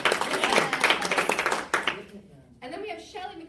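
A comedy festival panel audience gives a round of hand claps that fade out partway through, leaving a quiet room where a voice then begins speaking.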